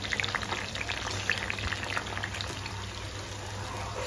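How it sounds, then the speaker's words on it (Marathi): Sliced onions sizzle in hot oil, fried in batches, giving a steady close crackling hiss with scattered pops and spits throughout. "थोडंसं मीठ लावून ठेवल्यामुळे काय होतं, कांदा छान तळला जातो आणि हा 2 बॅचमध्ये हा तळून घेणार"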